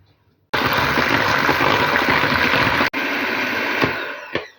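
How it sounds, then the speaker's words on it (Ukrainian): An electric hand mixer whips eggs with sugar and vanilla sugar for a cake, giving a loud steady whirring drone. It cuts out briefly partway through, starts again, then winds down with a few clinks against the bowl. "беремо ванільний цукор, беремо цукор і збиваємо"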